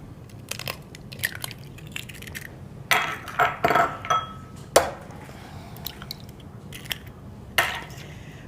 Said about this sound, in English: whisk the eggs together